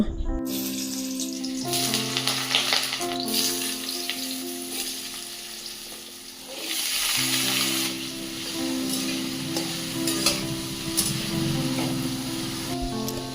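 Diced potatoes fry in hot oil in a kadai and are stirred, a continuous sizzling hiss with scraping stirs, under steady background music.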